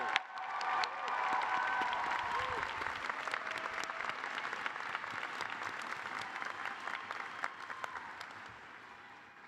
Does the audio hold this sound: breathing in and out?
no